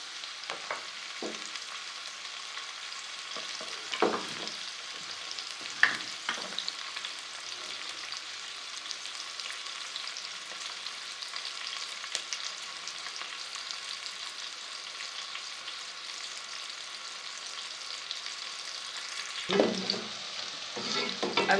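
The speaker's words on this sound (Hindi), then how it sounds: "इसको थोड़ा सा कुक करेंगे, प्याज को सॉफ्ट हो जाएगा तो फिर इसमें हम लहसुन का पेस्ट एक चम्मच डाल देंगे।" Onion and garlic paste frying and being stirred in a pan over high flame for a minced meat and fenugreek dish, a steady sizzle throughout with occasional scraping stirs, close and moderately loud, no talking.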